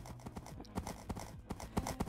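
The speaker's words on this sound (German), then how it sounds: "jetzt ist schon wieder diese scheiß Pferderennen" Galloping hooves from a horse race playing in the background, a rapid clip-clop rhythm of several strikes per second, moderately close, with no talking over it.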